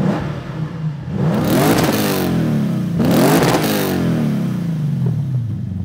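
A Lexus IS500 engine revs sharply twice, each burst rising and then falling back, loud and close with no talking.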